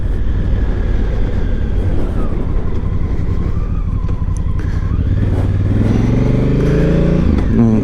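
An adventure motorcycle, a hire bike on a test ride, runs continuously with a loud close engine drone, and the pitch rises near the end as it accelerates.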